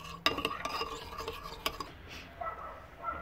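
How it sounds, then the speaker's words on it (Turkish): A spoon scrapes and clinks against a bowl as eggplant pickle is stirred with salt, in several short, close strokes with soft rubbing between them. "Sonrasında iyice karıştıralım şu şekilde."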